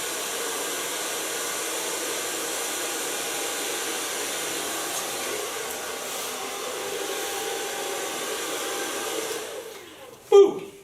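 A hair dryer runs steadily through a salon blow-dry of long hair, a constant close whoosh that cuts off near the end, leaving a brief clatter.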